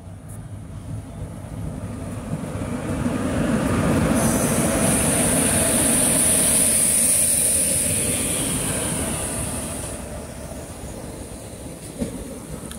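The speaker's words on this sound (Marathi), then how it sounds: "ही आली ट्रेन आपली" An Indian Railways train passes close by in Kerala, its loud rumble swelling and fading over several seconds, with a sustained high wheel squeal at its peak and a clattering rattle of carriages.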